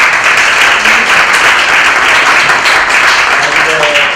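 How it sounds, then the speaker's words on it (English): An audience at a startup speaker event gives a continuous round of applause, loud and even throughout, with faint voices mixed under the clapping. "Give her a round of applause."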